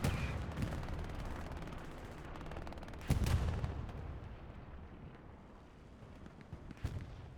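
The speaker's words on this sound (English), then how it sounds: "the artillery is hitting good still, keeping everyone away" Artillery fire in a World War II video game: distant booming shots and rumbling impacts at a low level, with a sharper blast near the middle and another near the end, over a steady battlefield wash.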